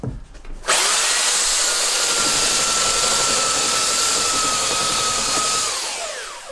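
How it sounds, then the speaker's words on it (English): Belt sander flattening the filled, bogged-up surface of a reclaimed wooden door damaged by borer and dry rot; a loud, steady whining grind starts abruptly after a brief pause and runs continuously for several seconds before winding down. "the quickest way to get this bogged up surface flat is with a belt sander"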